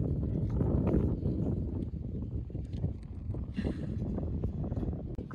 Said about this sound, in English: Do you see the wind is just blowing?